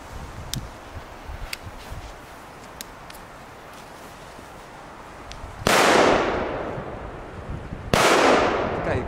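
Two powerful firecrackers explode outdoors about two seconds apart, each a sudden sharp bang followed by a long ringing decay, after a quieter stretch of faint ticks and rustling.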